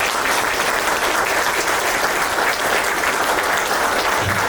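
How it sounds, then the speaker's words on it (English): Round of applause from a crowd for local flood responders at a benefit event in San Angelo, dense continuous clapping, loud and even, heard alone. "If you want to give them a round of applause"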